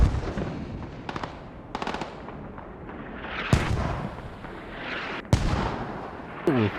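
Mortar fire in the game Squad: deep booming impacts roll through a steady rumbling battlefield, with a few sharp cracks and blasts standing out near the middle and end, and no voices over it.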